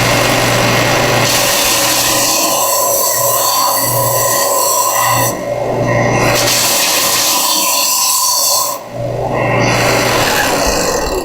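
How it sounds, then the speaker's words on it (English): A belt sander grinds excess wood off walnut with a loud, continuous high-pitched whine, briefly easing off twice before resuming. "I have a sander, a belt sander. it rips it right off in a matter of no time."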